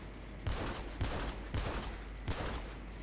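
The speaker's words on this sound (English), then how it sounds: "Let's use this rubbish pistol again." Pistol shots from GTA V gameplay, four sharp single reports spaced unevenly over about three seconds, each with a short echoing tail over a steady low background rumble.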